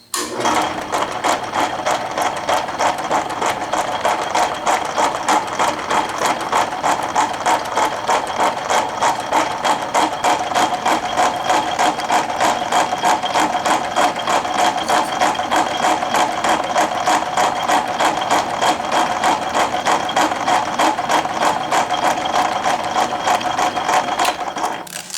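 A metal shaper making its final pass on a hammer workpiece runs at roughly 100 strokes per minute, a loud, steady, rapidly repeating mechanical clatter that stays constant from start to finish.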